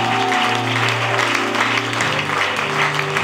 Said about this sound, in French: Est-ce que quelqu'un peut acclamer très fort?